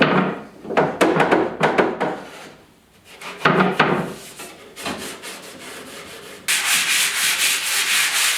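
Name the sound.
light sanding of an old wooden desk top with 280 and 220 grit sandpaper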